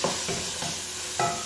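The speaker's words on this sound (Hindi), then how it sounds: "स्टर फ्राई करनी है अपनी वेजिटेबल को, देखिए तेज से फ्राई कर लेना है इसको" Vegetables stir-fried over high heat, a steady sizzle with three or four soft scraping stirs at irregular intervals, close and fairly loud with no voices.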